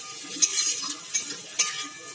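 Potato pieces stirred and fried in a pan while cooking chow mein, with a few sharp scraping clacks of the utensil over a steady close sizzle.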